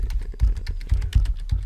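Rapid, uneven clatter of keys on a computer keyboard as an email address is entered, close and clear with no voices.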